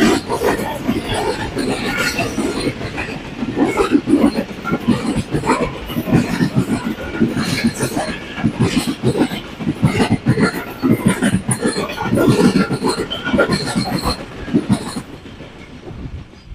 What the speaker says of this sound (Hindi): तो हज़ारा एक्सप्रेस आ चुकी है।